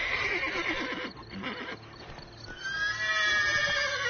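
A horse whinnies in a PS4 video game with a bright, quavering call, rising and trailing off, over a dull rumbling background that sounds synthetic and game-like.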